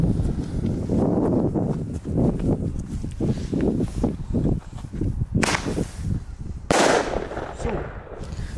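Powerful illegal Thunderking firecrackers set off outdoors, a couple of sharp loud bangs cutting through steady background noise, with voices talking around them.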